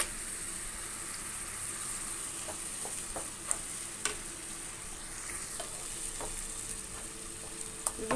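Tomato, ginger and garlic paste sizzles steadily in a pan for a chicken gravy, with a few sharp spoon clicks against the pan while stirring and no talking.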